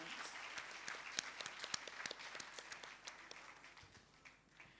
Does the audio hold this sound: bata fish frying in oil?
no